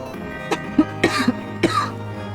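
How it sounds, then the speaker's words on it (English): A few short, close coughs break out in an uneven cluster, with a steady low hum underneath. "I'm sorry for the cough."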